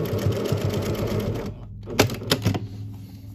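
A sewing machine stitches down the front of a fabric face mask with an origami nose pleat, a fast rhythmic clatter close up that stops abruptly and is followed by a few sharp handling clicks.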